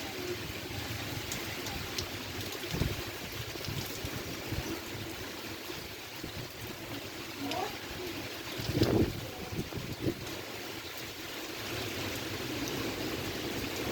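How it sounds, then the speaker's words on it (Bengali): Constant roaring wind of a severe storm with gusty buffeting against the microphone, mixed with rushing water noise, heavy and unbroken throughout. "বাতাসের বেগ অনেক বেশি"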